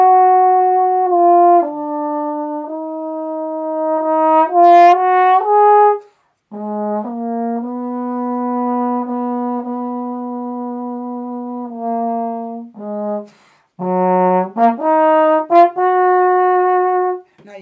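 A musical phrase played in a vertical style on a single brass instrument, with clear sustained tones separated by distinct articulations and a few short runs, loud and close with no talking.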